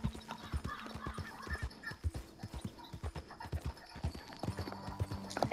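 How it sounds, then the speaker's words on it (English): Horse hooves clip-clop steadily at close range in the Red Dead Redemption 2 video game, with a brief whinny mixed in and a low hum of game music beneath, no talking. "So can you shut up, horse?"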